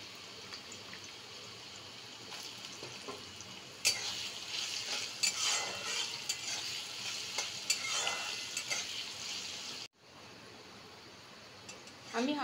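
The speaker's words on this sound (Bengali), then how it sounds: "আমি সবার আগে আলুগুলো ভেজে নেওয়ার জন্য অ্যাড করে দিলাম।" Potatoes frying in a pan of tempered spices for a no-onion, no-garlic veg chow mein, a steady close sizzle broken by louder stirring scrapes near the middle, cutting off briefly near the end.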